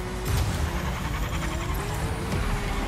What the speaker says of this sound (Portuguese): Aqui a gente segura o drift, dá uma giradinha, mantém a velocidade.